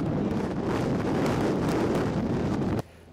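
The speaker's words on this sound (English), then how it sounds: "Big old dust storm." Strong wind in a big dust storm buffets the microphone with a loud, continuous roar and gusting rumble for a few seconds before cutting off abruptly.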